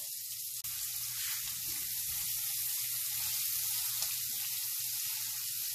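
Half a cup of onions sizzles steadily in a hot pan left to caramelize, a continuous bright frying hiss with a low hum beneath and one sharp tap early on, close and unbroken with no voices.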